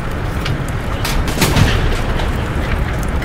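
A tank cannon fires at an enemy turret in the World War II game Hell Let Loose, a Stuart light tank duelling a Luchs, heard as a dull heavy boom with rumbling noise around it.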